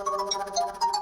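A mobile phone ringtone plays a short, bright melodic chime of quick rising and falling notes, close and clear, with no talking over it.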